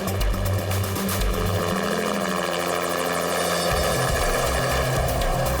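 A helicopter drones loudly and continuously, its rotor thumping in a rapid, steady beat that fills the whole stretch without any talking.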